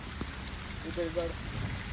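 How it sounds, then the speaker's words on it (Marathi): A faint, even hiss of heavy rain falling steadily, with no clear talk over it. "हा बघा पाऊस खूप आलाय."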